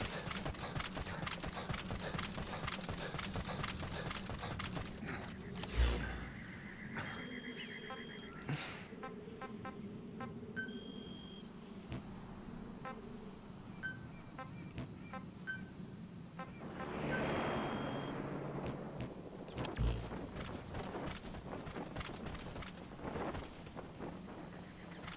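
Horse hooves clip-clopping in the video game Metal Gear Solid V, a steady walking rhythm of hoof beats alongside game sound effects, electronic beeps and wind.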